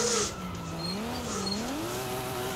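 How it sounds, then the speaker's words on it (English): A car drifts in the Forza Horizon 5 racing game, its tires squealing in a steady, wavering whine over a low engine drone. The sound runs continuously at moderate loudness with no talking. "Ooh, little jump drift going on right there."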